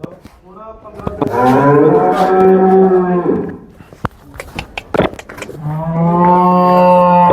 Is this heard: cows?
yes